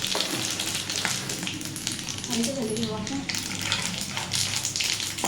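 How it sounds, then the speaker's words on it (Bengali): Radhuni seeds and dried red chillies are tempered in hot oil, crackling and sizzling steadily at close range while a person talks over the frying. "তেলের মধ্যে এবার দিব এই যে রাঁধুনি আর শুকনো লঙ্কা ফোড়ন"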